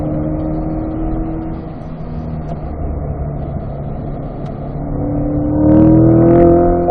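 A C8 Corvette's engine drones steadily at high RPM on a race track, then swells louder into a rising rev near the end, heard from nearby with no voices.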